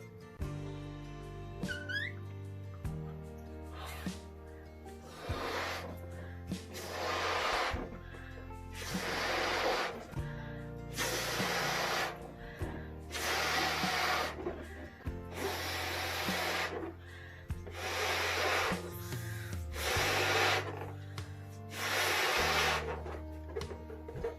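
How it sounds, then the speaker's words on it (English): Repeated bursts of breath blown into a balloon, about a dozen puffs in a steady rhythm, close and fairly loud over soft background music. "Okay, so you're gonna blow up your balloon."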